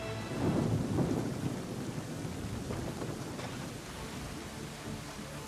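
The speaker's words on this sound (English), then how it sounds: "I'd say it's high time we find some cover from this storm" A thunderstorm with rain in the Assassin's Creed III video game: a deep rolling thunder rumble swells early, then gives way to steady rainfall hissing evenly, with no voices over it.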